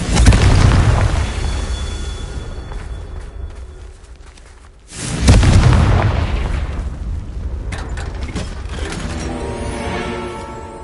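Two heavy booming blasts from the Confringo fire spell in Hogwarts Legacy, each a loud burst that trails off into rumbling debris and game effects.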